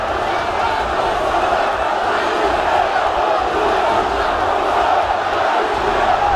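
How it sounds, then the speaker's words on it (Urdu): A large crowd chants slogans in support of Gaza during a speech by Erdogan, a dense, continuous roar of many voices that holds steady and loud throughout. "غزہ کی حمایت میں نعرہ لگا رہے لوگوں نے اس جملے کے فوراً بعد نعرے بازی شروع کر دی"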